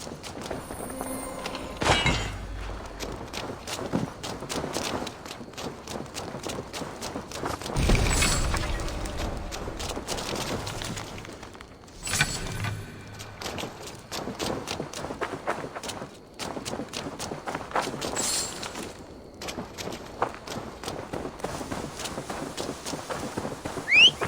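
Horse hooves clip-clopping in Assassin's Creed Valhalla as a horse is led for delivery, a steady close cadence running throughout, mixed with game ambience and a few louder thuds.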